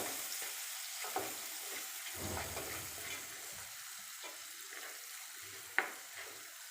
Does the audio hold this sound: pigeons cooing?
no